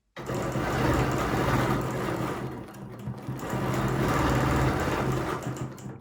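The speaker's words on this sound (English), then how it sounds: "I'm going to do a stitch this way and come back down" A sewing machine stitches along a ruler in two steady, close bursts of rapid mechanical whirring, easing briefly in the middle before resuming and then stopping.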